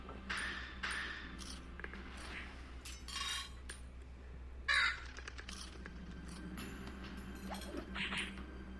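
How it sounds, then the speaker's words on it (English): Several crows caw in bursts, faint and distant, over a steady low background hum. "That's a lot of birds."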